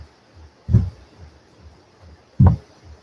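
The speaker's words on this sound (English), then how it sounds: "So you're hearing my feet hitting the ground really loudly." Two heavy thuds of feet landing on the ground with straight legs during a burpee, spaced well apart, close and loud against a quiet room.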